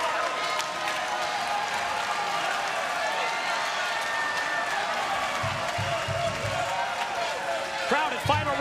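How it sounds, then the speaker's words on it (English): A wrestling crowd at TNA Final Resolution roars and applauds steadily for a tag team title match, a broad sustained wash of cheering with a few thuds near the end. "Crowd at Final Resolution showing their appreciation for these 2 tag teams battling for the TNA World Tag Team titles"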